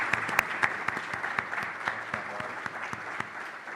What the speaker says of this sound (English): And maybe we could give all 3 a round of applause.